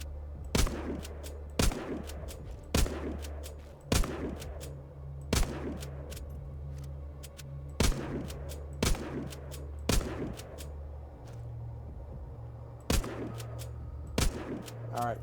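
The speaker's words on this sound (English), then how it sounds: "Alright, so that way the bullets are going off into the distance." Video game gunfire cracks out in sharp, loud single shots spaced irregularly about a second apart, each echoing off into the distance over a steady low mechanical hum.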